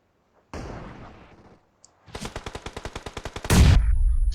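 Rapid automatic gunfire from PUBG Mobile erupts in a fast burst of evenly spaced loud shots, preceded by a single weapon noise and followed by a heavy blast, with no talk.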